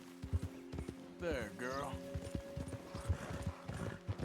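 Horse hooves clip-clop in Red Dead Redemption 2, with a faint snort or whinny partway through; the steps come as soft rhythmic thuds under a man's calm, soothing talk and a steady background hum.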